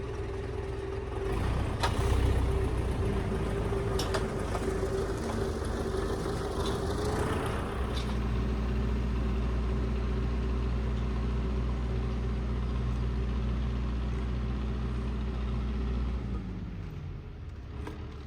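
A farm sprayer's engine runs before fungicide spraying on a sunflower field, a steady mid-pitched rumble with a deep low drone that shifts partway through, then winds down near the end, with no speech.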